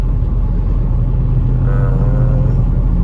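Steady low engine rumble from inside a 2004 BMW 320i with a 6-liter LS V8 swap cruising along, a constant loud drone with a faint rising whine partway through.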